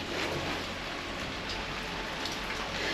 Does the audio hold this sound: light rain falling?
yes